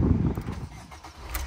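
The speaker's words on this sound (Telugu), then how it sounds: "సింగిల్ సెల్ఫ్లో కార్ స్టార్ట్ అవుతుంది ఎటువంటి స్టార్టింగ్ ట్రబుల్ అయితే లేదు" A 2015 Maruti Suzuki Baleno Delta fires up on a single press of the starter, a short crank catching into a low engine rumble, close and moderately loud, with no voices.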